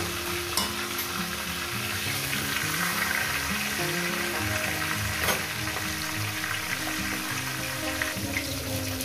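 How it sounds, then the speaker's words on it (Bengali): Fish heads frying in a pan for a leafy greens dish, a steady loud sizzle with scraping stirring strokes throughout, no voices. "মাছের মাথাকে প্রথমে ভেজে নেব।"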